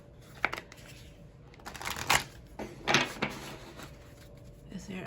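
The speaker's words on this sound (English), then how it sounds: "let me go ahead and shuffle and see if there's something here" A deck of cards is shuffled close by in a quiet room, with a few quick riffling bursts and soft slaps spread over several seconds.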